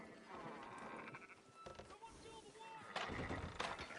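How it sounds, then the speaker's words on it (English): Sheep bleat in Red Dead Redemption 2, wavering tremulous cries mixed with game ambience and a sharp thud near the end, with voices speaking underneath. "Fine sheep."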